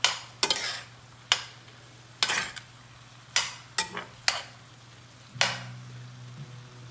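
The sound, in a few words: rice sizzling in pan as stock is added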